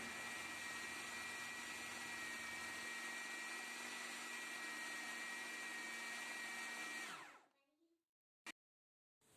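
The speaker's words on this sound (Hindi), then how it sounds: "इन सबको ग्राइंड करके एक थिक सा पेस्ट बना देना।" A kitchen grinder blends dates, honey and peanut butter into a thick paste with a loud, steady high-pitched whir that runs for several seconds, then winds down to silence, followed by a single click.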